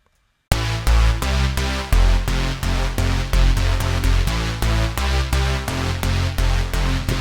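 An electro big room super saw synth patch built in Reason 8 hits in loud, rhythmic stabs after a short silence, bright layered chords pulsing in a steady dance pattern with no sidechain pumping.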